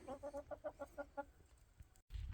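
A hen on a farm squawks and clucks in a quick series of about eight rhythmic, fairly close calls, then tapers off into quieter rustling before a brief cut and low rumbling noise.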